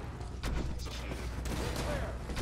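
Tesla cannon fired in Fallout 4, a burst of crackling, booming gunfire in fast succession with steady game noise underneath.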